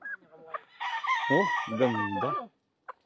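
A chicken at an expo gives a loud, drawn-out crowing call with a brief clucking note after it, heard close. A person says a couple of words at the start.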